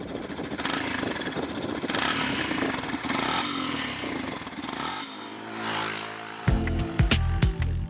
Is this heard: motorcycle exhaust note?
yes